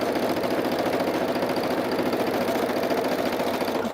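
A sewing machine stitches fabric strips onto paper in one steady, continuous mechanical whirr with a fast rhythmic needle chatter, close and loud, with no voices.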